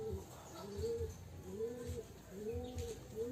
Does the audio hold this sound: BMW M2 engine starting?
no